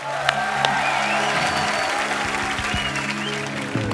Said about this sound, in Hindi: तालियां पहले हो जाए जरा